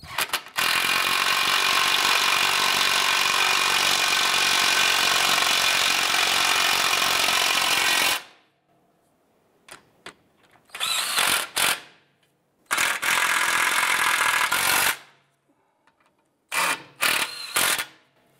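A power tool tightens exhaust bolts on a 2009-2015 Honda Pilot during a rear catalytic converter job, one loud continuous run of about eight seconds followed by shorter ratcheting bursts separated by silence, close and alone.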